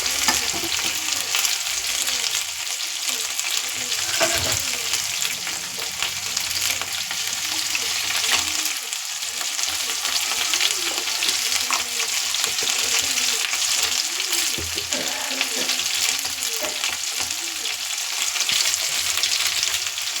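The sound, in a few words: stirring potatoes with salt, turmeric and spices in pan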